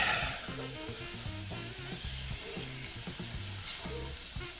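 Bologna sizzling and frying in a pan while being stirred with salt, a steady crackling hiss with soft rhythmic scraping strokes, close and moderately quiet, no talking.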